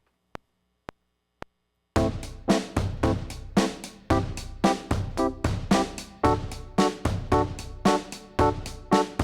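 Three soft click ticks count in, then a keyboard chord progression in Dorian mode follows, with full chords struck in a steady rhythm, loud and close, no talking.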